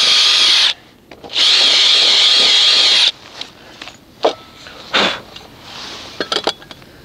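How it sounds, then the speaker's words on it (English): A power drill bores a hole for a bracket while building cheap ramps for a Honda HRX 217 mower, with two loud sustained whining bursts, then pauses and scattered tool clatter and small knocks. "I can't drill a straight hole"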